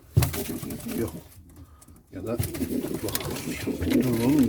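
A pigeon, a male flying bird, coos in soft low rolling calls close by, under and between someone talking.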